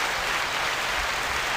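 A short burst of canned applause from a clapping sound-effect device, a dense, even crowd-clapping wash lasting under two seconds, with no speech.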